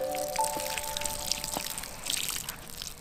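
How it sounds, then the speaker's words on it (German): Water is poured onto a pea plant, giving a soft splashing trickle with a few distinct drips and small splashes. A brief tonal whistle sounds near the start, with no voices. "zwischendurch muss man auch mal gießen"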